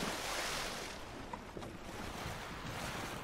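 Continuous rushing water and breaking waves around ships in Ghost of Tsushima, a dense, loud wash of surf with wind noise and no speech.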